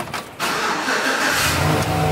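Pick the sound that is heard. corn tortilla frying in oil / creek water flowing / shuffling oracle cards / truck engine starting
truck engine starting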